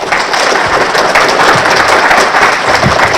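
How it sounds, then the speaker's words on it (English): An audience applauds after a student internship presentation, a dense, steady wash of clapping that stays loud and close throughout with no speech. "Let's give our students one more round of applause"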